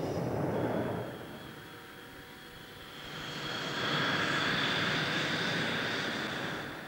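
An F-18 Hornet jet aircraft flies past, a broad engine roar that eases off briefly and then swells louder with a rising whine, no voices present.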